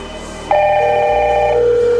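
A Hikvision DS-KH6110-WE1 / DS-KH6000-E1 IP intercom sounds its call tone right after the call button is pressed: a loud, steady electronic ring of stacked beeping tones that starts abruptly and holds, close and without speech.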